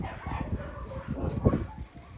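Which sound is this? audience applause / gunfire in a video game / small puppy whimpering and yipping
small puppy whimpering and yipping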